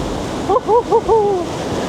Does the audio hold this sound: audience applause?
no